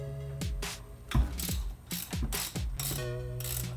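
A ratchet wrench loosens a bolt on a Mazda RX7 engine during a teardown, repeated loud ratcheting strokes in a steady rhythm, close up, with no one talking.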